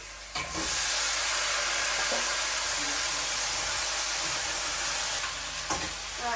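Malabar spinach stems hit a pan of fried fish masala with green chillies and set off a loud, steady sizzle and hiss, close and continuous, with a few stirring knocks.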